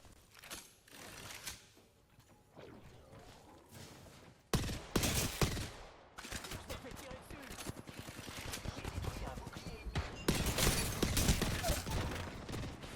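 Burst-fire weapon shooting in a video game, with sharp rapid volleys of shots in several loud clusters over game ambience, while a player talks over it.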